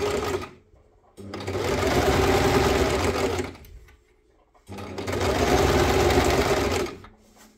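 A sewing machine stitching pieces of fabric runs in two long steady bursts of a few seconds each, loud and close, with a short quiet pause between them.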